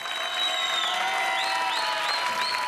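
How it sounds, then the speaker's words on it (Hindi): A studio audience on a reality TV show bursts into sustained applause with cheering and whistles rising over the clapping, loud and continuous throughout. "जोरदार तालियां एवरीबॉडी"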